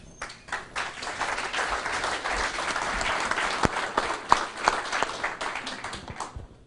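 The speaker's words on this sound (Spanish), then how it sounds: "nuestro aplauso para él" Audience applause for a speaker at a university lecture in Peru, a burst of many hands clapping that builds, holds with sharp individual claps standing out, then tapers away.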